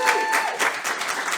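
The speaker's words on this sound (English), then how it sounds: "Round of applause." An audience at a community storytelling event in a library applauds, a short, fairly steady wash of many hands clapping with a few cheers and voices mixed in.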